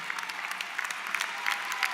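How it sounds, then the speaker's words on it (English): A graduation ceremony crowd gives steady applause for ROTC cadets. Dense clapping from many hands continues without a break for the full two seconds. "I'd ask our cadets, Rosia Akaba and Quinn Erickson, to please stand while you applaud for them."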